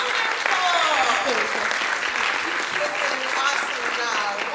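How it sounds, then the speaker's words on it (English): Audience at a church Christmas drama play applauds loudly and continuously after a song, claps and cheers blending in a dense wash, with a voice speaking over the crowd. "let's give them more rounds of applause"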